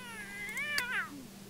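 A cat in The Sims video game gives a short rising and falling meow, clear and fairly quiet over a faint steady hum.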